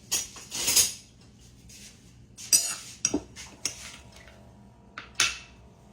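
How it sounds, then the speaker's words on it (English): A metal spoon clinks and rattles against dishes and cutlery as it is pulled out, several sharp, close jingles separated by brief quiet gaps. "Let me get me a spoon out"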